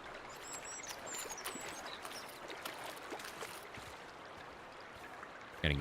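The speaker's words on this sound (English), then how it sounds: "Gotta get away from the water. It's too loud." Stream water rushes steadily in the hunting game Way of the Hunter 2, a constant faint wash with birds chirping over it and a brief louder bump at the end.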